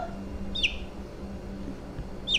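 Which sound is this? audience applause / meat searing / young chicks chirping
young chicks chirping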